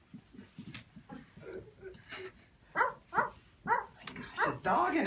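A dog in the game Buggys barks in a series of short, uneven yaps and whimpers, starting faint and growing louder and more rapid toward the end.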